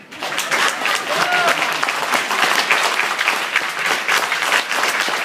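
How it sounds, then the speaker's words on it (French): A crowd at a WORLD GMN event applauds loudly and continuously, a dense wash of clapping with cheering voices mixed in throughout. "Ça mérite un très très grand applaudissement."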